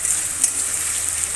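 Onion with cinnamon, cloves and cardamom frying in hot oil, a steady, close bright sizzle that holds evenly with small crackling pops.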